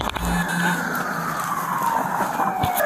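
A car speeds along during a police pursuit, its engine whining in a rising and falling sweep as the tires skid, loud and close throughout with no talking.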